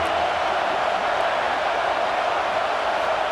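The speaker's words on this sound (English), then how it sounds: "Decibels rising as the crowd gets behind this defense on third down" Steady roar of a stadium crowd during a College Football 26 game, LSU versus LA Tech, a dense even wash of noise rising on third down with no distinct voices standing out.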